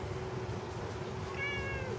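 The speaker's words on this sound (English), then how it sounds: "Yeah, you fat little pretty cat." A cat meows once outdoors on a moonlit night, a short, clear, fairly close call rising out of a steady low hum and soft ambient noise, with no talking.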